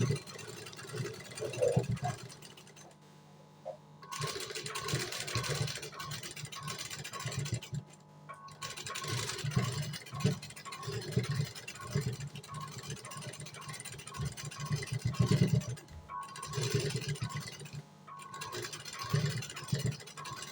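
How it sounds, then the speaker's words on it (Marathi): A sewing machine stitches lace for a blouse design, a quiet humming run of rapid stitching broken by a few brief pauses. "आता आपण दुसऱ्या साईडला पण शिलाई मारून घ्यायची."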